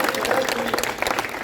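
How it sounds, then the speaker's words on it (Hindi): Audience clapping at a Hindi poetry recital, a brief burst of steady applause from a crowd with some voices mixed in. "एक बार आगे से लेकर पीछे तक एक बार मेरे सम्मान में तालियां बजा दीजिए"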